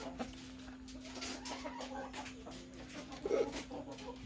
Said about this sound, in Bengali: যে পাশে আমার পাহাড়ি জুটি মোরগ, বিশাল সাইজের বড় মোরগ